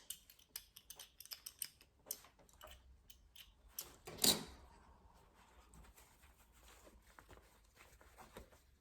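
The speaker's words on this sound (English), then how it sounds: "And we can trim off these threads." Scissors snip loose threads on a freshly sewn fabric face mask: a series of quiet, sharp cuts and clicks close by, with one louder rustle midway and soft handling noises afterward.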